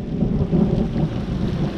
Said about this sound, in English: And a big crack of lightning.